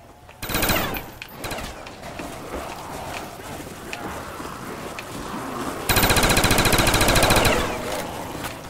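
Rapid automatic machine gun fire in Call of Duty Zombies, Kino Der Toten map, hip-fired in sustained bursts with a dense rattling stretch near the end, mixed with game noise.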